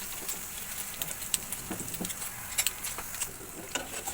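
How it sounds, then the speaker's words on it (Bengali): Eggs frying in a pan, a faint, steady crackle and sputter with scattered small pops, close and alone with no talk. "এখন ডিমটা ভেজে নিব।"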